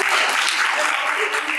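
An audience at a literature festival claps briefly, a dense, steady patter of many hands, fairly loud and without a break.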